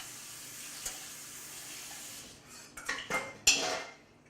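Dishes clatter and cutlery clinks under a running kitchen tap, a quick rinse with a few sharp knocks and splashes that build toward the end over a faint, steady water hiss.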